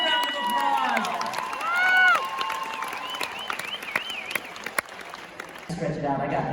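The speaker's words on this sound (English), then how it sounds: "let's give our mascots a huge round of applause" A convention audience at a student council state event gives the mascots a sustained, dense round of applause, with cheering voices and a speaker talking over it.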